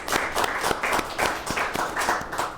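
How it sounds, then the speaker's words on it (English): Audience at a Highlands Ranch Chamber of Commerce executive talk breaks into a round of applause, dense overlapping claps at steady loudness throughout. "let's give you a round of applause"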